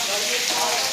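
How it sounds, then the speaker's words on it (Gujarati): Steady broadband hiss of rain falling during a monsoon shower, continuous and fairly loud, with a faint voice in the background. "વરસાદ ચાલુ જ છે."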